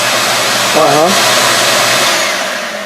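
A vacuum cleaner rigged up as part of a cleaning setup runs steadily throughout at close range, a loud constant broadband roar that tapers slightly at the end, with a brief voice-like tone near the start.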